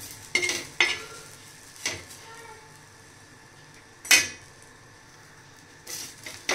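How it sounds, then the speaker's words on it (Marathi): Grated coconut roasted in a pan beside cooked onion, with a spoon scraping and stirring in several separate bursts over a faint sizzle, close and fairly quiet. "खोबरं छान असं परतून घेते"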